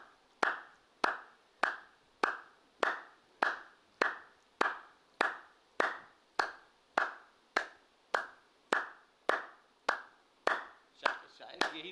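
Rhythmic hand clapping by one person, a steady evenly spaced series of about twenty sharp, close claps, each ringing briefly in the room before the next.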